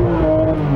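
Porsche 991 GT3 RS naturally aspirated flat-six engine holding a loud, steady high-rev drone with a rich harmonic tone, close by and alone, no talk over it.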